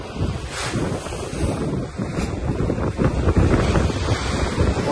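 Sea surf surging and crashing onto the shore at high tide on a rainy day, continuous loud roar of breaking waves with strong wind buffeting the microphone.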